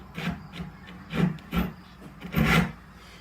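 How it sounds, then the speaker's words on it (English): A Japanese hand saw cuts a straight line in wood with a handful of close, rasping strokes at an uneven pace, each stroke a short gritty rub, with no talk. "So I just grabbed the Japanese saw. We'll just make a straight line here like it says."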